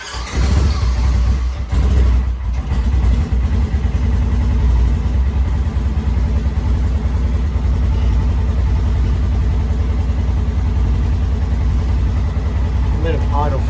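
A Polaris General engine idles steadily after a fuel pump repair, a loud, close, even low rumble throughout while people talk over it.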